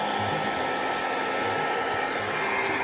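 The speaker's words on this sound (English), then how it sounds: "now I'm going to use the hairdryer" A hair dryer on low speed blows steadily and loudly throughout over poured epoxy resin, a constant broadband whoosh with a low motor hum underneath, no voices.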